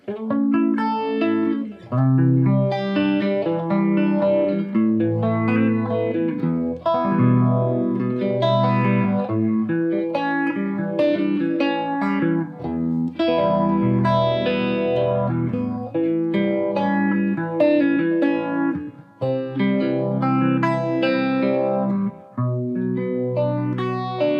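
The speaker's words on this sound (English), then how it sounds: "I have a MXR Phase 90, a real Phase 90 with the script logo" Electric guitar playing chords and melodic lines through a circa-1972 script-logo MXR Phase 90 phaser pedal, swirling and sweeping, steady and fairly loud with no talking.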